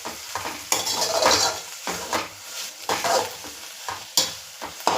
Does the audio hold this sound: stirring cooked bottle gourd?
yes